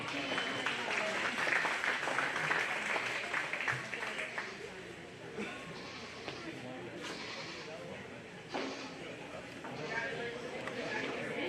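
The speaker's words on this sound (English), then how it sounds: "Let's go ahead and give her a nice round of applause." Scattered applause from spectators at a county fair livestock show ring, moderately distant and fairly quiet, with an announcer's voice talking over parts of it.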